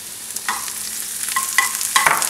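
Mushrooms frying in oil in a pan, a steady sizzle with several sharper bursts of crackle as they are stirred and turned, close and moderately loud.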